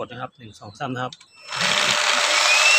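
An Electrolux cordless vacuum cleaner, under repair for not running despite charging, starts after a man counts aloud, then its motor whines at a steady loud pitch up close for the rest of the moment.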